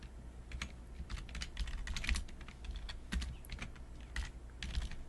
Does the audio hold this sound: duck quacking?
no